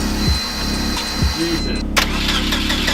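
A Subaru WRX in a garage cranks and catches after a coolant flush, the starter whirring briefly before the engine settles into a steady mid-pitched idle, close and fairly loud with no talking.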